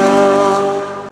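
Citroën Saxo VTS race car at the Mont-Dore hill climb, a loud, steady engine drone held close by for about a second before cutting off abruptly.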